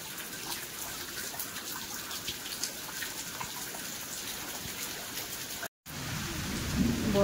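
Steady rain falls outdoors in a dense, even patter over several seconds, with a brief drop-out near the end before the shower resumes slightly louder.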